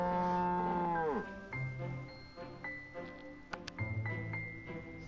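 A cow in Monster Hunter Rise Sunbreak lets out a long low moo, followed by short game chimes and menu tones, with no voices.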